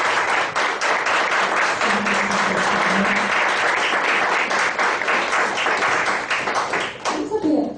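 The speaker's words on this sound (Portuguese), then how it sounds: "aplauda mais uma vez" Church congregation clapping loudly together, a dense burst of applause with audible individual hand claps, a few voices calling out underneath, trailing off near the end as a voice starts speaking.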